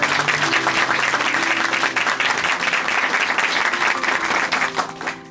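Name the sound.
audience applause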